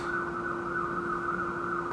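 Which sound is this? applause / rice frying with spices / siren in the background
siren in the background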